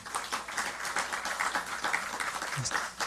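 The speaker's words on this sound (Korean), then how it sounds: "큰 박수로 맞아주시기 바랍니다." Audience in a Korean political party lecture hall applauds to welcome a guest speaker, a steady wash of clapping across the whole stretch with a brief low thump near the end.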